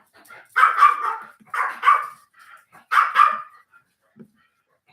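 A dog barks in three loud, close bursts of two or three yaps each, separated by short pauses, with a faint whimper near the end and no talking.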